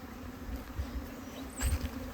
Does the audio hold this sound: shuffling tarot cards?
no